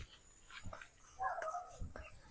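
A dog's drawn-out whimpering cry rises near the middle, a wavering yelp-like howl, with softer dog noises and someone talking around it.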